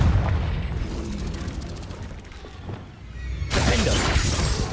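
Confringo blasting spell explosion in Hogwarts Legacy, a booming blast with crackling debris and rumble, followed by a second loud burst of crashing noise near the end.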